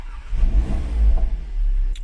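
An Audi TT 8S engine cranks and catches, settling into a low rumbling idle with a few uneven swells, heard close and alone.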